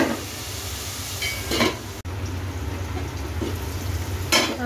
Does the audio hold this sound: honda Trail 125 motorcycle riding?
no